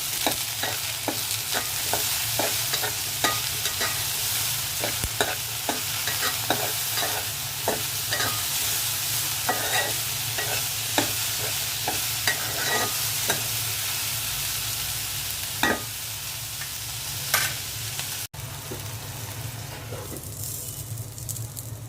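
Okra frying in a pan with salt and turmeric, a steady loud sizzle with repeated scraping stir strokes, which grows quieter and thinner toward the end.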